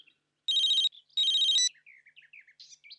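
A telephone rings in two loud electronic bursts, each about half a second of warbling trills, with faint chirpy tones trailing after. Nobody speaks.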